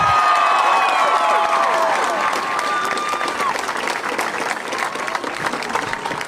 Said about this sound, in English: these people gave her a round of applause